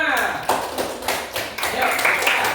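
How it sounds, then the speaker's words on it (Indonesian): Classmates clap for a student group in a classroom, a loose scattering of individual claps rising and falling while a voice speaks over them. "beri tepuk tangan untuk kelompok 5"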